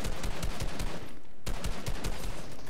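Rapid bursts of gunfire crack in quick succession in Fortnite, with a short lull midway before the shooting resumes, sharp and close against a busy game soundscape.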